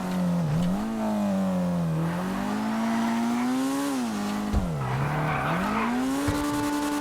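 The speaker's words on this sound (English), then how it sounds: "let's listen to the exhaust note and see if it's changed some" Penumbra FF in GTA 5 revs and accelerates through gear changes, its engine note rising and falling in repeated sweeps, with tire squeal and skidding at moments, loud and close with no talk.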